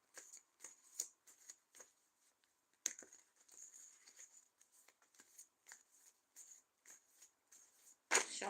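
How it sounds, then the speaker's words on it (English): Tarot cards are shuffled close up and softly, a run of quick riffling bursts and light taps separated by short pauses, ending with a louder rustle. "Shuffling the cards"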